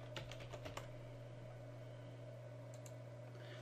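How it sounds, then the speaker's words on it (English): Quick clicks of a computer keyboard as a password is typed at a login screen, a short burst of keystrokes near the start and a couple more later, faint over a steady electrical hum. "Let's switch this. The user was Donald, and put in the password"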